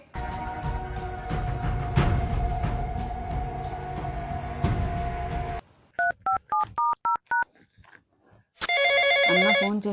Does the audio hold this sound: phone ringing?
yes